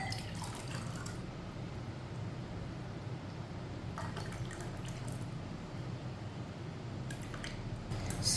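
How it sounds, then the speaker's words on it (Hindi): Rooh Afza sharbat poured from a container into glasses, a continuous low liquid splashing and gurgling close by, with brief brighter clinks near the start and later on. "अब शरबत को गिलासों में भर लेंगे।"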